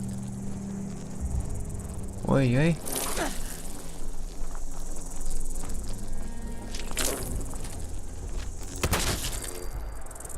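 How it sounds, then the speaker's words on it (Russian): A mosquito creature in Fallout 4, a short rising insect buzz and whine over game ambience and scattered impacts, with a man briefly exclaiming during it. "Комар."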